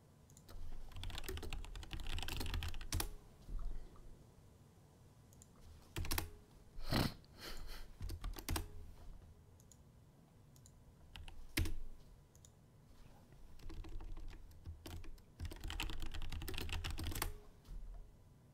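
Computer keyboard keys clatter in quick bursts of typing, close and fairly quiet, with pauses and a few louder single key hits between runs.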